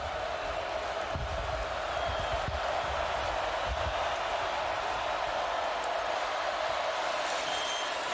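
A large home crowd at a college football game, LSU at South Carolina, roars in a dense, loud, sustained wash of cheering that fills the whole stretch, with faint commentary-like voices underneath.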